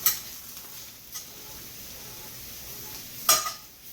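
Portobello mushroom pieces sizzle softly in a pan as they are cut, a steady low frying hiss broken by a few sharp clicks and scrapes of a utensil against the pan.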